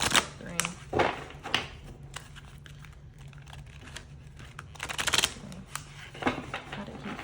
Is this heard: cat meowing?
no